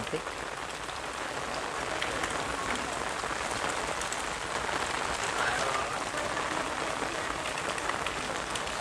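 Heavy rain pours down in a steady, dense hiss, loud and unbroken throughout at a flooded home.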